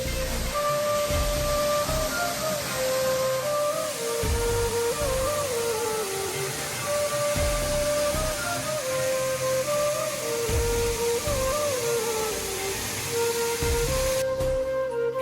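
Steady broadband rush of water cascading at Sapugahadola Ella waterfall in Sri Lanka, continuous and fairly loud throughout, with a faint tonal whine from nearby sources over the roar and no talking.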